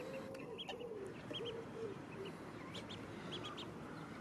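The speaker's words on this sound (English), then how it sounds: "these little ducklings led down just now, didn't you?" Ducklings on a lawn give faint, repeated high peeps in short clusters over low outdoor background noise, distant and soft.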